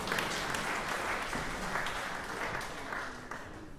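An audience applauding at a final gala concert of a string mastercourse, broad sustained clapping at an even level that fades slightly toward the end.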